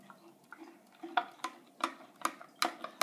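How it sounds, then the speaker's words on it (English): A stirrer clinks against a glass vessel holding an iodine clock reaction solution, giving light, irregular taps and scrapes about three or four per second, close and fairly faint. "I guess I should use my stirrer as opposed to stirring with a spoon"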